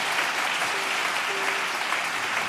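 Steady, dense applause from a concert audience for a conservatory orchestra at a chamber orchestra and choir performance, filling the whole stretch at an even level with no break.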